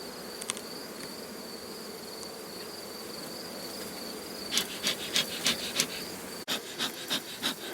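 Honeybees buzzing close by while a beehive is opened and inspected, a steady hum with a faint high whine, then a run of soft rhythmic knocks or brushing sounds toward the end.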